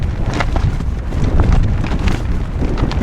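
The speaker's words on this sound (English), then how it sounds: "this might be my windiest morning yet" Strong wind buffets the microphone on a mountain summit in a loud, continuous roar with irregular gusts and low rumbling, no voices present.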